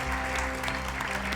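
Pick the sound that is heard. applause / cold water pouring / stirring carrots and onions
applause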